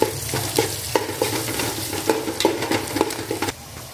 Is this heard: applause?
no